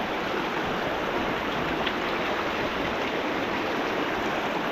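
A river stream flows steadily nearby, a continuous even rush of water with no pauses or voices.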